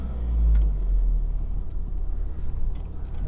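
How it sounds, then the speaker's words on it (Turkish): A vehicle rolls slowly through a walnut orchard. Its low engine rumble swells early, then settles into a steady drone with some light rattles, and nobody speaks. "Keyiften bir araç turu atalım dedim sizinle."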